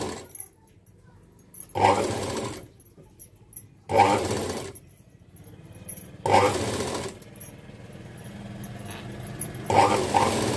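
A sewing machine stitches a blouse in four short separate bursts of rapid whirring, each a second or two long, with quiet pauses and faint handling noise between them.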